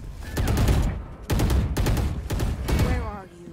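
Gunfire in the tactical shooter Valorant: several close, loud bursts of shots in quick succession separated by brief gaps, with a voice speaking over the action and a faint electronic tone near the end.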